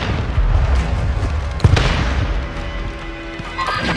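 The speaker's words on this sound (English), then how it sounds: "Hostiles launched a cruise missile." A cruise missile explodes during a Modern Warfare II ground war match, a loud boom with a sharp crack near the middle amid ongoing battlefield rumble and scattered distant blasts.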